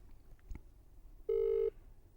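A single steady ringback tone sounds through a phone speaker, about half a second long, after a quiet stretch with faint background noise.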